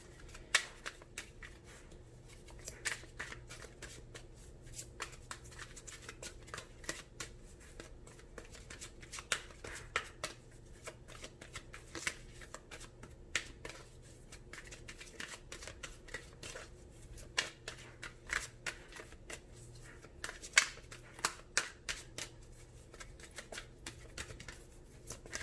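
Romance Angels oracle cards are shuffled continuously and softly for a long stretch, a steady patter of quick riffling flicks and taps close by, with no talking.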